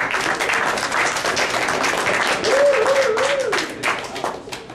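Audience applause at a French tweet-up gathering: a steady, dense wash of many hands clapping throughout, with a brief whistle-like tone rising over the middle, and voices murmuring underneath.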